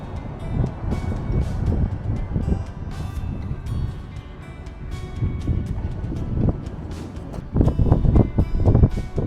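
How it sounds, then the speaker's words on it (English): Gusty wind buffets the microphone outdoors on a cliffside path, with low rumbling bursts rising and falling throughout and a stronger gust near the end. "The wind has picked up"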